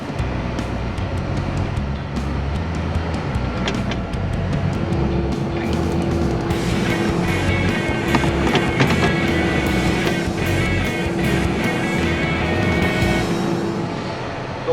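A Spra-Coupe self-propelled sprayer spreading nitrogen fertiliser rolls across a field at about 19 km/h, its engine holding a steady, close drone with a faint constant whine and no voices throughout.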